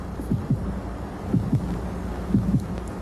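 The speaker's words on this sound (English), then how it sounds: "I can hear my heart beating." Muffled heartbeat pulsing in three paired lub-dub thumps, evenly spaced and soft, over a low steady hum with no voices.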